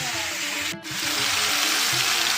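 Potatoes frying in a pan at home, a steady broadband sizzle running throughout with a brief dip near the start and low clinks of utensils underneath.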